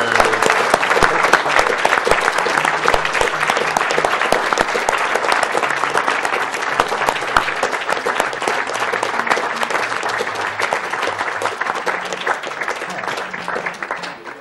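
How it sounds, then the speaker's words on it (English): An audience at a speedrun charity marathon applauds steadily, a dense sustained wash of clapping from a large crowd that holds at an even level throughout and only starts to thin at the very end. "keep the applause going"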